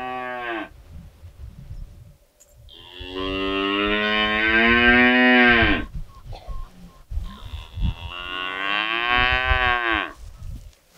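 Calves and cattle on a farm give two long, loud, close moos, each lasting a few seconds, with quieter rustling and shuffling between them.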